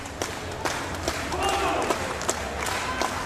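Wrestling crowd at an MCM Expo show clapping in a steady, moderate rhythm, mid-distance in a hall, under a commentator's ongoing voice.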